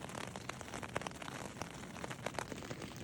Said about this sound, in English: It's been raining like this since I went to bed